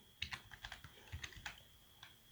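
Quiet, close computer keyboard typing as a Windows run command is entered, a quick irregular run of about a dozen light key clicks with no voices.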